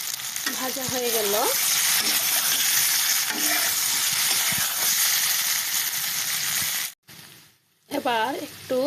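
Potatoes and paneer sizzle loudly in a hot pan as they fry in a home kitchen, a continuous close hiss with stirring noises and someone talking at the start and the end.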